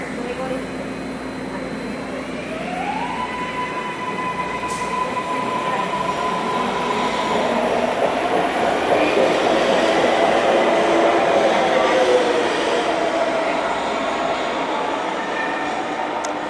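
A subway train rolls into a station during single-tracking with a rising rumble and a long metallic wheel squeal, loud and close, while people talk faintly in the station.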